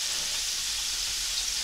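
Chebureki, fried meat-filled pastries, sizzling in a pan of hot oil, giving a close, steady crackling hiss with no talking.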